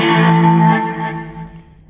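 An electric guitar rings out through the vintage overdrive setting of a Nux MFX10 multi-effects pedal, a single gritty, harmonically rich chord that sustains and slowly decays over about two seconds.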